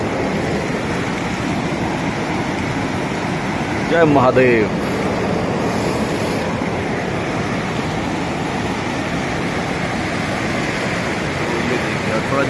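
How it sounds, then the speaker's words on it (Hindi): The swollen Kali river in Uttarakhand rushes steadily after heavy rain, a loud continuous roar filling the whole stretch, with a man's brief exclamation near the middle. "तो हम ये रही काली नदी"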